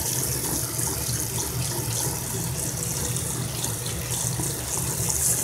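Tap water runs steadily into a sink while eye makeup brushes are rinsed under it, a continuous close splashing and hissing stream with no talking.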